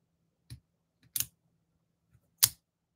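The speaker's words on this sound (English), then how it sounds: "I try to always carry scissors" Pair of everyday scissors handled on a desk, giving three short separate clicks and snips spaced about a second apart, close and fairly quiet with silence between.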